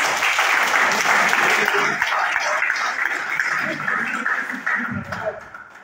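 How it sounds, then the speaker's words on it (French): Audience applause at a live presentation on public budget matters, close and dense at first, then thinning and fading toward the end with a few scattered claps. "On applaudit ça quand même."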